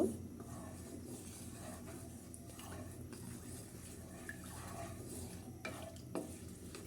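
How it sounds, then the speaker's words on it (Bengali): Dried red chillies stirred in hot oil as a tempering for mango pickle, giving a soft, steady sizzle with gentle scraping strokes and an occasional faint clink. No voices are present. "ফোড়ন দেওয়ার জন্য আমি প্রথমে দেব শুকনো মরিচ কয়েকটি একটু নাড়াচাড়া করে নেব"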